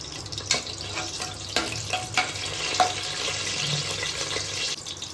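Whole cloves, star anise, black stone flower and a bay leaf crackle and sizzle in hot ghee. A soft continuous frying hiss is broken by a few sharp pops and clicks of the spoon against the pan.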